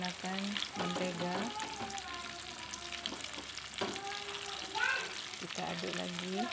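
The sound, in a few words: sautéing chopped chicken in melted butter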